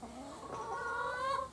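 Chickens cluck and murmur close by, a short run of overlapping rising and falling calls with no talking.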